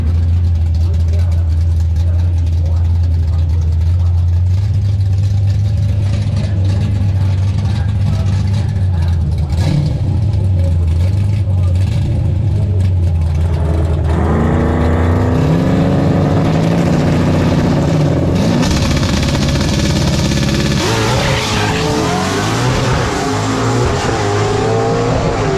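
Stick-shift drag race car at Drag Week launching and accelerating down the strip, a loud engine roar climbing through gear changes over the run, with someone talking over it.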